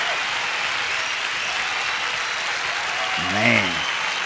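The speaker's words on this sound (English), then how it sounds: "The crowd is on their feet." A concert crowd applauds and cheers a performance, a dense, steady roar of clapping with a brief voice rising over it near the end.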